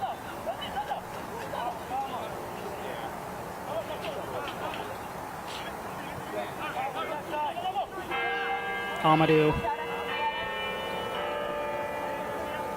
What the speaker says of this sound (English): The bells ringing here on the campus of the University of Denver.